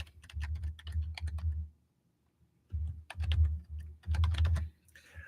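Keys on a computer keyboard clatter in three short, close bursts of rapid clicking, separated by brief silent pauses, with no voices.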